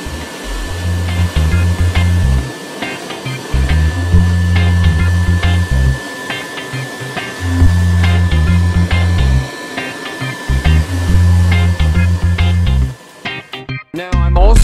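A powered sprayer applies neem oil to squash leaves affected by powdery mildew, giving repeated close hissing bursts of a few seconds each, separated by short pauses, over a faint steady whine.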